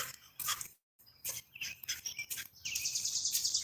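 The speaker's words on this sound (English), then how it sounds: "Hear the birds." Birdsong along a former railroad trail in Derry, with several short chirps and calls in bursts and a steadier high trilling chorus toward the end, all moderately near and outdoors.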